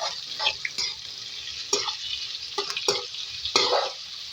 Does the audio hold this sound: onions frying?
yes